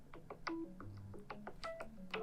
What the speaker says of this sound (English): If you go back, you will mute this ringtone.